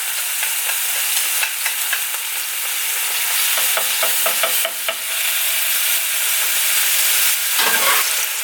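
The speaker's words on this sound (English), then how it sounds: "lift it off the plate carefully and put it onto the frying pan" A homemade burger patty sizzles steadily in a frying pan, a loud, continuous hiss with crackling spatter throughout, close up and without talk.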